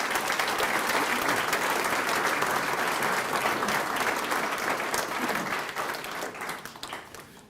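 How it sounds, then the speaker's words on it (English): Audience applause at a 2017 academy graduation ceremony, a dense, sustained wash of many hands clapping that holds steady, then thins and fades toward the end. "can we just give everybody a round of applause and thank them for what they do?"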